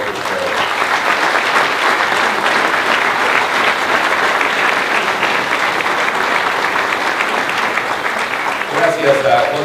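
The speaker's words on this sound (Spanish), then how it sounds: "con un fuerte aplauso." Sustained applause from a banquet audience at a founders' luncheon, loud and steady throughout, with dense clapping across the whole stretch and a voice starting to speak near the end.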